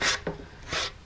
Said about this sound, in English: I like to keep a sanding block available so I can knock the hairs off